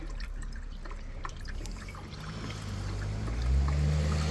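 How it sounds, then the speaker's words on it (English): Coolant pours steadily into a 4x4's radiator during thermostat and radiator maintenance, a close continuous liquid gurgle and trickle that deepens as the level rises, with no talking. "just gonna fill the coolant up and take it from there"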